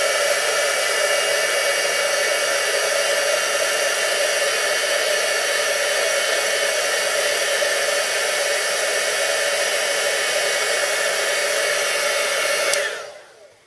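A heat gun reheats glued heat-transfer powder mixed with silver glitter, giving a steady, loud, close blowing roar that holds unchanged for about thirteen seconds and then cuts off abruptly as the tool is switched off.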